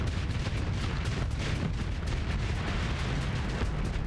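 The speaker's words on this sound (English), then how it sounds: "Torpedoes." Torpedo launches in the Starsector space combat game, a continuous heavy rumbling barrage of booms and thuds, loud and close throughout.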